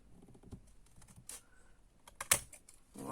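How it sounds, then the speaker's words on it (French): Scissors snip through paper in a few crisp, sharp cuts, with quieter rustling between them, close by and otherwise quiet. "vous prenez des ciseaux et vous coupez au trait"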